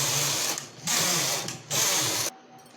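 A punch card knitting machine runs rows of stitches: two loud, harsh sliding carriage passes with a brief pause between them, then a sudden stop into near silence.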